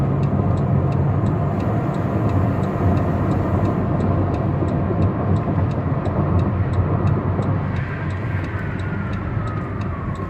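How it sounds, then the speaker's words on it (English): A 2018 Dodge Caravan SE Plus wheelchair mobility van with 36K miles drives steadily on a highway exit, producing continuous road and engine rumble with a faint ticking pattern, shifting slightly near the end as it brakes hard; no voices. "Up here on this exit I'm going to try to give it a hard brake."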